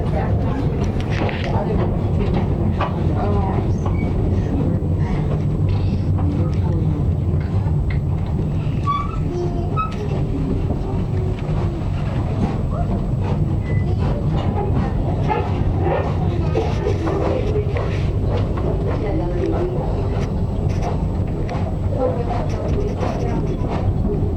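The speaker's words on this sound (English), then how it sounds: "Let the other train go by." Continuous low rumble and rattling of a small narrow gauge train on the Cripple Creek & Victor railroad rolling past up close, steady and loud throughout with clanking and metallic squeaks.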